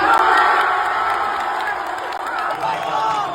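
A German crowd at a swimming world championship roars in a sustained, loud frenzy of cheering and shouting after a 400 freestyle world record, a dense wall of voices with no pauses.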